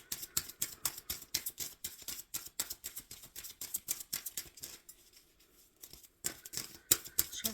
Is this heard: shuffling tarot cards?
yes